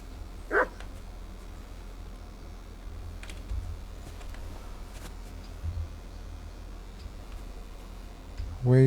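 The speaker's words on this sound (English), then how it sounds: "Who's barking?" A couple of sharp, isolated dog barks from the video game Kingdom Come Deliverance 2, one early and one at the end, over a quiet background with faint ticking.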